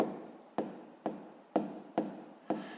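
A pen writing out a sixth-grade math solution by hand on paper, close and quiet, with five or six short scratchy strokes in a regular rhythm and no talk.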